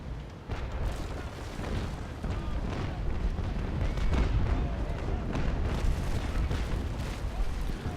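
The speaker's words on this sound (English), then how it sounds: "The Reuter is being fired by this enemy brig, or enemy Mercury." Naval Action Legends naval battle with six-pounder long cannons firing between ships, including an enemy brig: a dense, continuous rumble of booming shots and heavy low-end thunder that runs without pause and sits loud and close.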